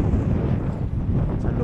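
Wind buffets the microphone while ultralight fishing on open water, a steady low rumble of gusts throughout the short stretch.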